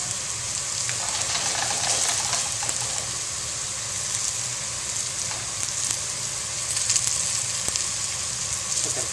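Okra sizzles and fries in a smoking-hot pan during country-style home cooking, a steady dense crackle close by with brief louder pops, no talking over it.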